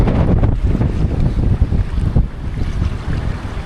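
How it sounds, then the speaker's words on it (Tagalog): Strong wind at sea buffeting a fishing boat off Taiwan, loud roaring gusts battering the microphone with rumbling wave and hull noise, continuous and close. "Sabi ni James, malakas daw ang hangin sa lubong."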